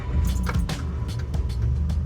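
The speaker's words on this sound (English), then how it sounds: "I'm not sure how the audio is going to be because the exhaust is pretty loud" A small pickup truck with a loud exhaust drives along, its deep engine and exhaust rumble sounding close and continuous, with some rattling noises from the cab.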